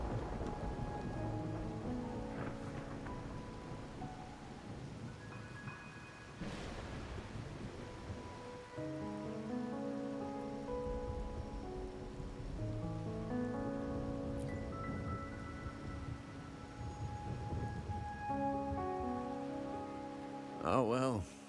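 In the Wuthering Waves video game, steady rain falls in Raguna while thunder rumbles now and then. The storm plays as a constant backdrop under people talking.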